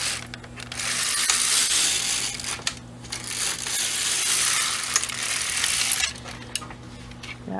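A knitting machine carriage sweeps across two rows with a loud, continuous clattering and rasping of needles and metal, a brief pause between passes, no voices.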